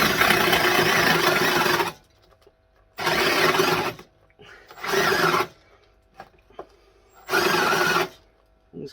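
A big drill fitted with a holesaw cuts into a workpiece in four loud, separate bursts of grinding, rasping noise of one to two seconds each, with quiet pauses and small knocks between them.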